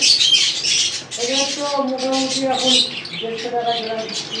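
Bengalese finches in an aviary squawk and chirp close up, high buzzy calls mixed with short tonal notes, several birds calling over one another.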